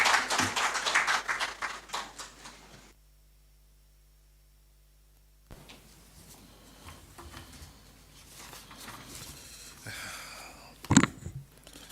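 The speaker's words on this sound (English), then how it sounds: "Shall we acknowledge him with a round of applause" A crowd at a national dialogue event in Ghana applauds the President of the Republic, giving a short burst of dense clapping, then a silent gap before scattered applause and room noise resume, peaking in a sharp clap near the end.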